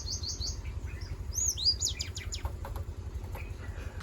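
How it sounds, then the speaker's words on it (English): Small birds chirp and tweet in high, quick repeated calls near the start and middle, with a faint flutter of wings, over steady low outdoor rumble in Hampi, India. "This bird is fighting itself."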